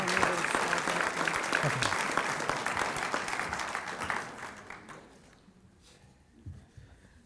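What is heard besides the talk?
audience applause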